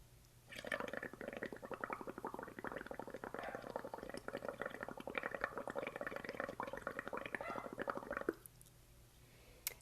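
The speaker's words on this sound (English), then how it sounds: "I'm going to take my straw and I'm going to blow into one end of it and make some nice big bubbles" A straw blows bubbles into soapy paint water, making a continuous close bubbling and gurgling for several seconds before stopping abruptly.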